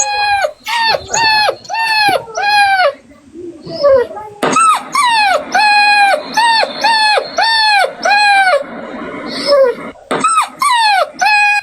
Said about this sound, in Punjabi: ਵਲੈਤੀ ਕੁੱਤੀ ਇੰਜ ਹੀ ਬੋਲਦੀ ਆ, ਆਊ ਆਊ ਆਊ ਆਊ